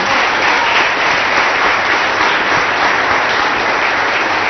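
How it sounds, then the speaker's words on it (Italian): An audience in a television studio applauds for Milan with loud, steady, dense clapping that fills the whole stretch without a break. "Un applauso al Milan."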